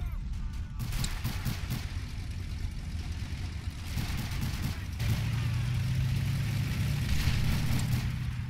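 A tank engine in the video game Men of War Assault Squad 2 rumbles under scattered game noise, and a low, steady drone swells in about halfway through and holds to the end.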